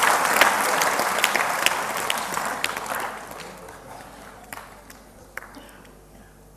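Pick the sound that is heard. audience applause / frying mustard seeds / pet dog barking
audience applause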